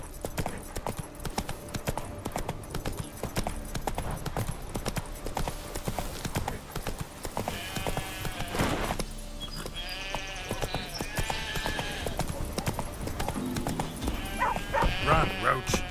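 Roach the horse galloping in The Witcher 3 game, hooves clip-clopping in a fast steady rhythm, close and prominent, with sheep bleating nearby and music underneath.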